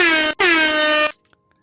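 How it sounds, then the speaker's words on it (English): Two loud, bright blasts of an air horn effect within music, a brief cut-off followed by a longer held blast, then stopping abruptly into near silence. "then there's like an air horn and stuff."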